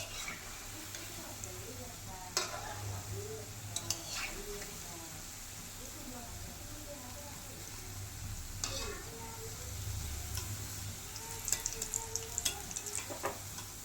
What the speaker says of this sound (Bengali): এইভাবে আমি আস্তে আস্তে সবকটা ভাজাই ভেজে নেব।